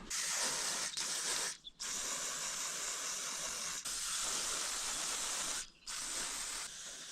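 Penetrating oil sprays at close range onto a Kirovets tractor that sat idle through the winter, in long loud hissing bursts broken by a few brief pauses.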